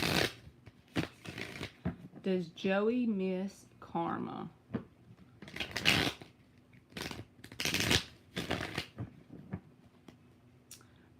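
Tarot cards are shuffled in a series of crisp, riffling bursts, interleaved with a person speaking close by.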